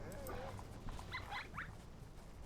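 Honey badger cubs in the game Shelter give a few faint, high yipping barks and squeaky calls, quiet and brief over a low ambient hum.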